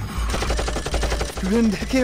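Rapid bursts of gunfire crackle in a steady, repeated pattern, loud and close, with a voice calling out near the end.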